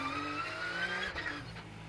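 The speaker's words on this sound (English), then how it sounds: "Starting with his baby blue Porsche." Porsche rally car on a stage start at the Rallye de Wallonie, its engine holding a steady, fairly distant drone with a rising pitch, no voices.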